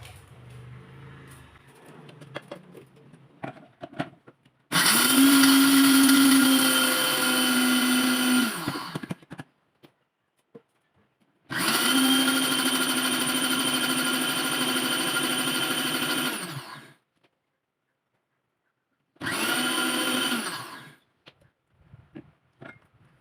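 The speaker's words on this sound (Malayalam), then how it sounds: "അപ്പോഴും ഞാൻ എൻ്റെ മിക്സിക്കകത്ത് ഒന്നര കിലോ മുളകാണ് ഞാൻ ഇവിടെ പൊടിച്ചെടുത്തിട്ടുള്ളത്" A kitchen mixer grinder pulverises dried red chillies into powder in three loud, whirring bursts of several seconds each, with quiet pauses and faint handling noises between them.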